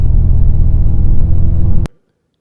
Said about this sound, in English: And they can even be inspired by combustion engines.